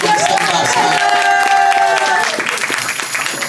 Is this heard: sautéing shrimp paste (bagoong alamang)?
no